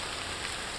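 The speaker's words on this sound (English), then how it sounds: "being out in the rain like what I am right now" Rain falling steadily outdoors, an even hiss of drops on surfaces, close and continuous with no voices.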